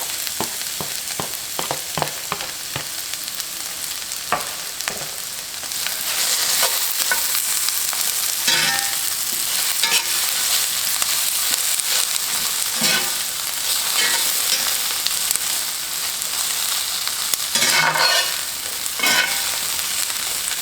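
Corned beef hash with ground mustard, salt, pepper and garlic sizzles steadily in a pan, broken by scraping stir strokes that come and go, close and clear with no voices.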